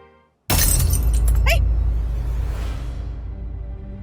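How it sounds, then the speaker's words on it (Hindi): Glass shatters suddenly in a home setting after a brief silence, a loud crash with tinkling fragments and a long noisy decay over several seconds. "कांच टूटना मतलब अपशगुन होता है"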